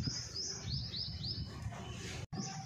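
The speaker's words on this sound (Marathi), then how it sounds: "तर हे बघा हे पोपट बसलेत." Parrots perched in a drumstick tree after rain, calling in a run of sharp repeated chirps and squawks at close range, with a quiet outdoor background and no talking.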